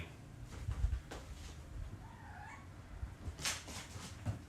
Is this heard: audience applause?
no